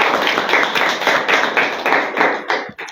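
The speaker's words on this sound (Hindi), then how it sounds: "ताली बजा सर।" An audience at a school graduation congratulation event claps steadily and loudly in dense rhythmic bursts for about three seconds, tapering off at the end with no talk over it.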